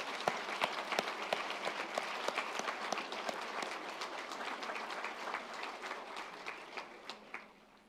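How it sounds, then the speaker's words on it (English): Applause at a university School of English graduation ceremony held virtually: dense, continuous clapping from many hands, fairly quiet and distant, thinning toward the end into a few separate claps. "this feels like an appropriate moment for a clap of hands for family and friends who have supported all of you"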